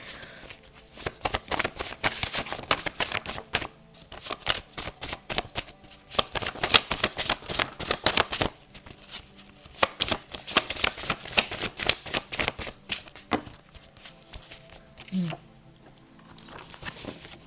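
Tarot cards are shuffled by hand in repeated riffles and soft slaps, coming in uneven bursts over about seventeen seconds and staying close and crisp, with a few brief pauses between.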